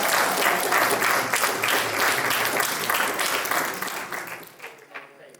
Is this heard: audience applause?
yes